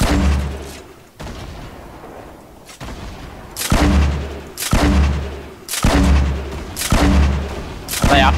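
Fortnite Battle Royale rocket launcher shots and booming explosions, five or six heavy blasts in quick succession at close range, each with a sharp attack and deep rumbling tail, broken by short quieter gaps.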